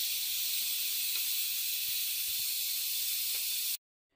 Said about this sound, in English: it always has more steam when it's time to release